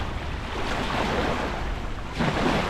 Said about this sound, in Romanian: Știam că o să bată vântul așa tare și din față